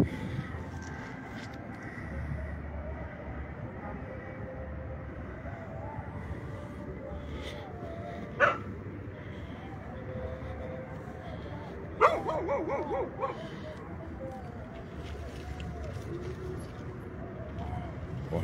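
Dogs bark outdoors in the early morning at a hilltop ceremonial site, a few sharp barks standing out over steady background noise, with people talking throughout.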